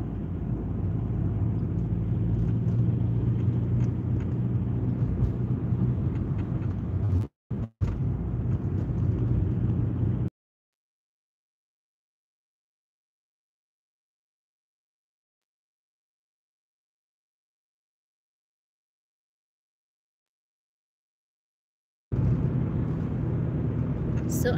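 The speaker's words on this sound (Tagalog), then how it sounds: "konti na lang yung mga sasakyan" Steady low rumble of road traffic and passing cars on a street, fairly close, cutting out into a long stretch of silence before returning; voices are faintly mixed in.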